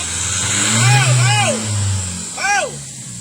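A car engine fitted with a newly replaced turbo runs and rises briefly in pitch, a low steady drone sitting under a man's loud, animated talk.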